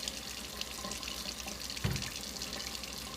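Cold water runs from a kitchen tap into a container for curtido brine, a steady splashing stream with one brief louder splash partway through.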